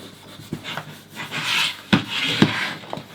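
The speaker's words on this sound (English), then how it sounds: "just use your bone folder just to get that edge nice and" A bone folder rubs along the edge of a leather belt clamped in a burnishing vice, giving a dry, scraping rasp in repeated strokes with a few sharper knocks, close and moderately loud.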